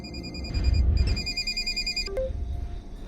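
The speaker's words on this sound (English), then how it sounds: "she actually ends up getting a phone call and she picks it up and you can hear her voice" A phone rings in the horror video game Welcome to the Game: a steady electronic ring that pauses briefly and resumes, over a low rumbling ambience, with a short tonal blip near the end.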